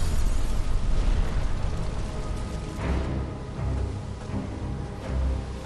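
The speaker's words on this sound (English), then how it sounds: "it has a typical tanker explosion" A tanker blowing up in a submarine warfare video game, heard as a loud, sustained rumbling blast that rolls on with deep swells and slowly eases off.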